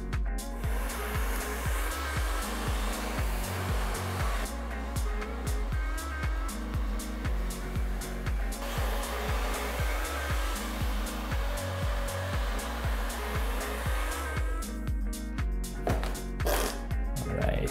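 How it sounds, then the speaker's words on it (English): A hair dryer blows steadily and loudly throughout while thick hair is brushed, with faint brushing and shifting noises on top and a brief change near the end. "now we're gonna take a blow dryer and a brush"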